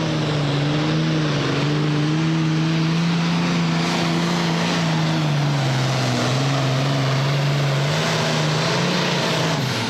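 A competition pulling tractor named All Cranked Up roars at a tractor pull in Hillsboro, Wisconsin, its loud engine drone holding a steady pitch with slight wavers throughout, with no talking.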